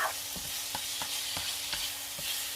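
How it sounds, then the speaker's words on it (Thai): Pork stir-frying in a pan with a steady sizzle, broken by a soft, regular scrape of stirring every fraction of a second, close and fairly quiet. "เดี๋ยวก็จะผัดให้หมูเนี่ย"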